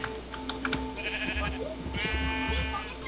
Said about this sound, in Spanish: Vale que se viene una vaca y tres ovejas